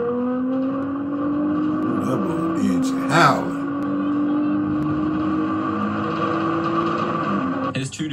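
A car racing at about 170 miles an hour past a police car gives a steady, loud engine whine with a brief whooshing burst midway, and faint talk in the background.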